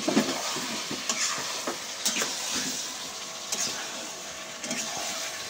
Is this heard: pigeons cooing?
no